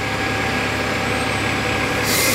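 An Italbus city bus with a Puma D12 diesel engine running, a loud steady engine drone with a constant hum throughout and a hiss rising at the very end.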